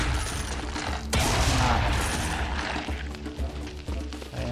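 Heavy, continuous gunfire in the first-person shooter game Serious Sam 3 BFE, with dense rapid shots and a loud burst partway through, roaring steadily without talk.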